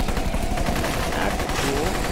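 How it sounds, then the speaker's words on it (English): Turret gunfire in the zombie shooter game Guns N Zombies rattles off as a loud, dense, nonstop burst of rapid shots that fills the whole stretch. "That sounds like a gun. Ooh, a turret!"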